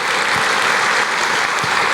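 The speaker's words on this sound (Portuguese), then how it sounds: "Aqueles que creem, aplaudam o Senhor" Church congregation applauding, a dense, sustained patter of many hands clapping at once, loud and steady across the whole moment with no talking over it.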